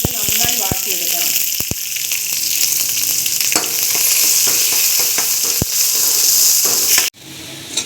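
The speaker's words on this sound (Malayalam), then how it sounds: "ഇനി കുറച്ച് ഉള്ളി മുറിച്ചതും ഇട്ട് കൊടുക്കണം. ഇത് നന്നായി വാട്ടിയെടുക്കണം." Chopped onions with mustard seeds and curry leaves sautéing in hot oil in a Kerala kitchen, a loud continuous sizzle with a few sharp pops and stirring scrapes near the start, ending in an abrupt cut.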